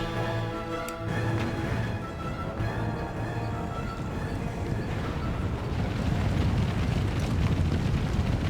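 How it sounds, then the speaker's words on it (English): An artillery barrage rumbles through a battle in Empire: Total War with the Darthmod mod installed, playing as France. Dense, continuous booming explosions roll together and grow heavier toward the end. "we'll just have to barrage them, won't we?"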